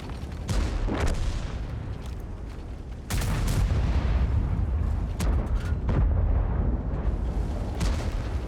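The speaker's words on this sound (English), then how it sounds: "Some interesting shots going on now." Tank cannon fire in the World of Tanks video game: repeated heavy booming shots and explosions, some close and loud, others more distant, over a constant rumbling battle background.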